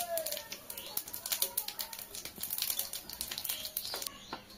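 Cumin seeds and bay leaves crackle and spit in hot oil at the start of a bottle gourd curry, a quiet, irregular patter of small pops and sizzles heard close up.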